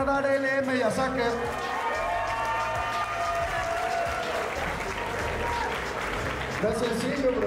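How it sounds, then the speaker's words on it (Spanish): Audience applauding at a freestyle rap battle quarterfinal, a sustained wash of clapping and crowd noise under a host's loud, drawn-out voice that runs across most of the stretch. "Fuerte el aplauso para Saker y para LM"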